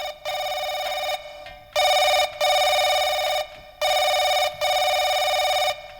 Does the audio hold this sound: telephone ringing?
yes